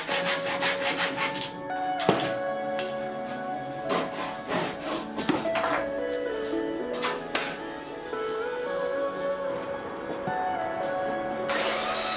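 Continuous sandpaper rubbing against juniper wood on a bench, close and loud, with brief strokes and scrapes breaking the steady rasp.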